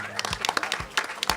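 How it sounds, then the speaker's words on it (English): Scattered applause for a winning team at an arcade video game tournament, a brief patter of separate claps under a voice. "Give it a round of applause,"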